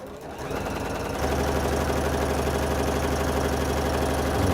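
A sewing machine stitches through fabric, starting softly then settling into a loud, steady close mechanical whir with rapid regular needle pulses throughout.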